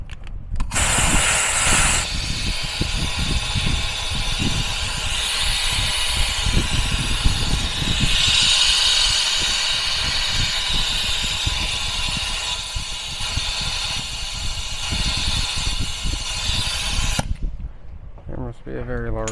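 A strong, steady hiss pours from a leaking car cooling system for most of the stretch, loud and close, then cuts off abruptly near the end, with someone talking over it.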